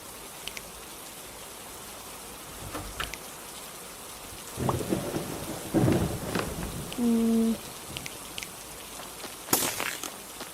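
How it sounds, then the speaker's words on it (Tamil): Rain and thunder in a video game: steady rainfall hiss runs throughout, with rolling thunder rumbles midway, a short electronic game tone, and a sharp thunder crack near the end. "மழை பெய்யுது. நல்லது."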